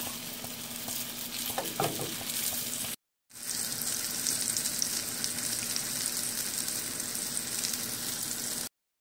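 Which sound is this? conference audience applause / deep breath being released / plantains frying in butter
plantains frying in butter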